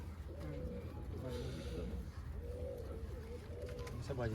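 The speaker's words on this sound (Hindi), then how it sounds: "लो जी, बाजियों के उड़े हुए हैं जी कबूतर।" Pigeons coo in soft repeated rolling calls, several birds close by, against a low steady background rumble with a voice talking at times.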